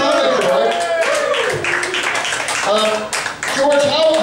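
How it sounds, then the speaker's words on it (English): Studio audience clapping steadily for a guest, George O'Brien, at a live comedy show, loud and dense throughout with voices talking and cheering over it. "Give him a round of applause."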